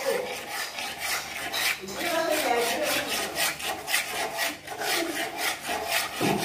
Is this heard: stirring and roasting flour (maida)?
yes